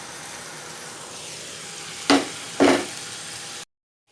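Browned eggplant pieces tipped into a sizzling tomato masala in a hot pan, with a steady frying hiss and two sharp clattering bursts as the vegetables land and are stirred.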